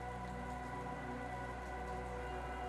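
Steady, constant rain falls in Tormund, the rain-soaked capital in the Chained Echoes video game, as an even, unbroken wash of drops on surfaces. It is quiet and has no pauses or voices.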